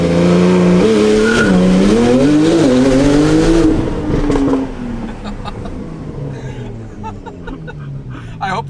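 A Porsche 992 Turbo S with a titanium exhaust launches hard in sport mode, its loud rising engine roar climbing through revs, then easing off into a quieter fading drone as the car pulls away.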